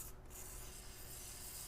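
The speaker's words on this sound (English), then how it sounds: "Spray some of that in" WD-40 lubricant sprayed onto a stuck front axle shaft of a Ram 1500 4x4 during a stub shaft replacement, one faint continuous hiss of aerosol held close to the work.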